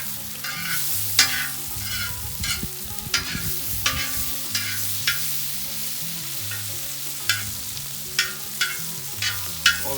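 Beef, scallops, vegetables and butter sizzling steadily on a discada while a metal utensil stirs and scrapes at regular intervals, loud and close with no talking.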